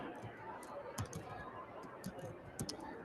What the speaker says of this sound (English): And I'm not going to be picky about my typing here.